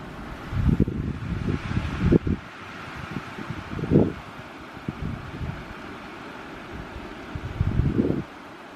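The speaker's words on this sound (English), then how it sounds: "we're looking at extremely windy conditions over the next few days. And it's starting to pick up." Strong wind roars steadily and rumbles low, swelling into louder gusts now and then, with no voices.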